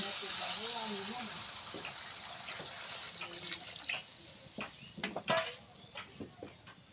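Water pours into a pan of jackfruit and prawn curry, a brief gush and hiss at the start fading into quieter bubbling and clinks.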